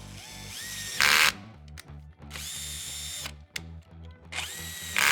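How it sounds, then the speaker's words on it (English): A power drill driving a thread installer whirs in several bursts with short pauses between, close and loud, each run ending abruptly as the clutch slips. "we're going to use a thread installer, which you can do manually or you can use a drill"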